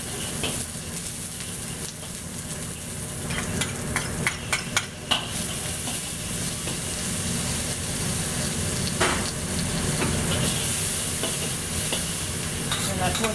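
Onion frying in about a tablespoon of oil for a beef and asparagus stir fry with black bean sauce, a continuous loud sizzle with stirring scrapes and a few sharp utensil clicks near the middle.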